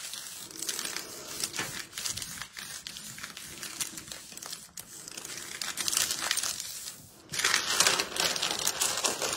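Paper being crumpled and handled to wipe excess off a handmade card after a frame is lifted away, giving steady crinkling and crackling bursts at moderate loudness with no talk.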